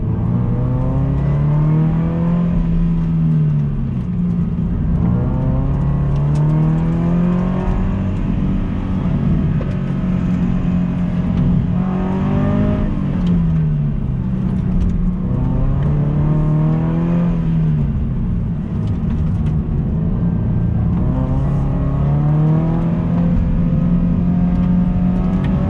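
A Subaru BRZ on a warm-up lap around a track, heard from inside the cabin with the windows up: the engine rises and falls through repeated revs and gear changes, loud and continuous for the whole run.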